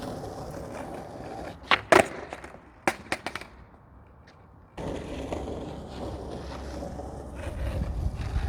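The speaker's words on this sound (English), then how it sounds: "now let's try a pop shove it while driving." Skateboard wheels roll steadily as a rider who has not skated in 16 years tries a pop shove-it while moving, with a cluster of sharp board clacks near the start, a quieter lull, then loud continuous rolling rumble.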